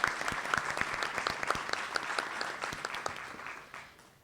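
A retreat audience claps after a talk on service, a crowd of hands with a few sharp individual claps standing out close by, steady at first and then thinning and fading toward the end.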